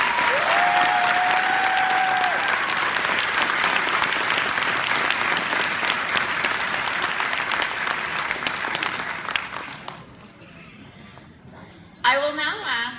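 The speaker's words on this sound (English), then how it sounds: "We'd ask you to give a big round of applause to all our graduates." Graduates at a high school graduation ceremony receive a big, sustained round of crowd applause, loud and steady with a brief cheer, then fading out near the end before a short burst of voices.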